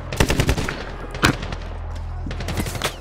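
G3A3 rifle fire in the video game Medal of Honor 2010 rings out as loud, close bursts of rapid shots with a sharp report near the middle, trailing into quieter shots and echoes.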